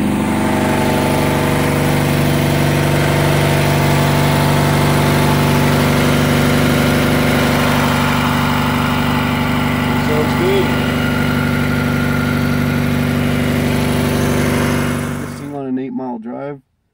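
A Honda Prelude's F22A1 engine idles smoothly and evenly right after a new distributor cap and rotor, a steady close hum with a voice talking over it before it shuts off near the end.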